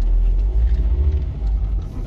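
A car passes close by on the road, a loud low rumble that swells and fades over about two seconds with no talking.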